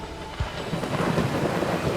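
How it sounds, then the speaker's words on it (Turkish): Low rumble of thunder rolling over a steady wash of heavy rain, dense and continuous. "Yıldırım düştü sanki"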